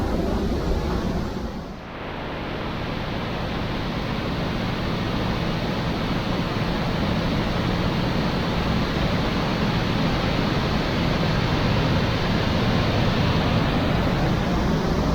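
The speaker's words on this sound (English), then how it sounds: "The water just rush with such a power you cannot imagine." Powerful rushing water roars through Lydford Gorge in West Devon, a dense, loud, continuous torrent heard up close with no pauses or voices.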